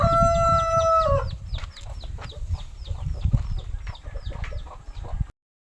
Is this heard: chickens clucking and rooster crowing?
yes